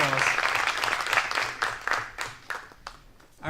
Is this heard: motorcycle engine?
no